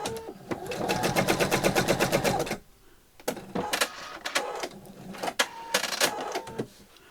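A home sewing machine set to a lengthened stitch runs in one quick, evenly pulsing burst of a couple of seconds, followed by quieter clicks and handling noises.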